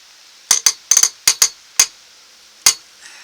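Decoraport cross rim wrench tightening a wheel nut, about eight sharp metallic clinks in an uneven rhythm, close and loud, with brief quiet gaps between strikes.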